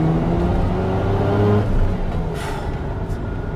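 Old Mazda RX-7 with a rotary engine accelerating hard, a loud, close, rising engine whine from inside the car that eases off toward the end, no voices.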